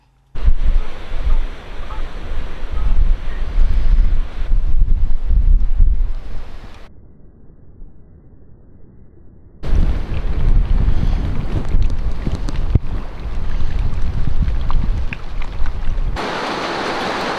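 Storm wind and waves batter a boat in foul weather with hail, loud rushing gusts and sloshing surges filling the clip, broken by a few seconds of muffled quiet before the roar returns.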